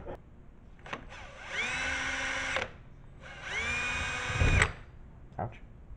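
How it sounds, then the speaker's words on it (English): A power drill drilling into steel whines up twice in long, high-pitched bursts, with short clicks and low handling noise between the runs, while working on a 1994 Chevy Cheyenne truck. "Did not want to drill into the steel."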